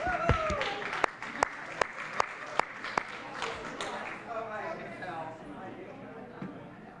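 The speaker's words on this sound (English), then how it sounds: "A round of applause for our head teller," Audience applause at a parish annual meeting at St. John's Norwood, a brief burst of clapping with a few sharp claps standing out, then fading under ongoing talk and murmuring in the hall.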